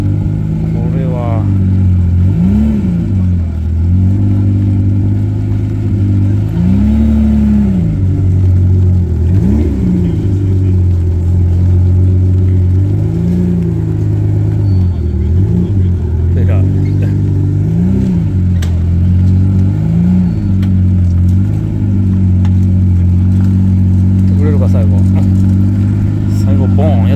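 A Ferrari at an outdoor vintage car festival runs with a loud, continuous engine drone, with several rising and falling revs throughout and people talking over it.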